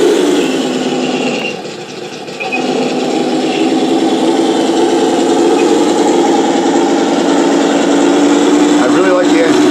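A radio-controlled Tiger 1 tank model runs its engine at full throttle, a steady, loud mechanical drone that dips briefly early on and then holds constant throughout.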